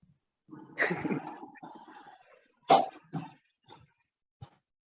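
A man coughs and clears his throat in a few short, harsh bursts separated by quiet gaps, close to the microphone during a religious lecture.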